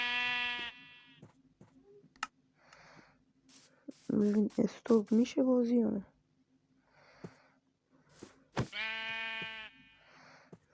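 Sheep in the video game Minecraft Bedrock give loud, nasal bleats, one at the start, a cluster of bleats in the middle and another near the end, with a person speaking quietly between them.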